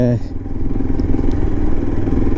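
A Yezdi Adventure motorcycle rumbles steadily with a low engine drone while being ridden, close and loud, with someone talking over it.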